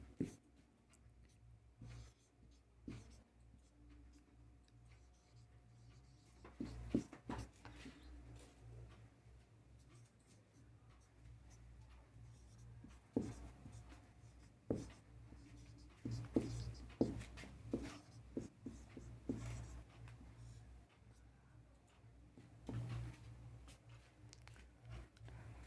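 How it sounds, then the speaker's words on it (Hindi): A pen writes on paper at close range with faint scratching strokes and small tapping ticks, coming in irregular bursts that grow busier toward the middle and stay quiet and dry. "आइए ट्रिक को लिखते हैं।"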